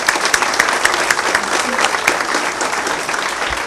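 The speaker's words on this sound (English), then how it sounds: "So if we'll give them a round of applause." Loud, dense applause from an audience at a county school board meeting, a continuous crowd roar of clapping heard close and sustained throughout.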